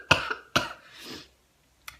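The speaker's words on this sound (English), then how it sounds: "Did that cough?" A person coughs close up in a few sharp bursts, two strong ones, then a softer, drawn-out one, followed after a pause by a short final hack, with no talk.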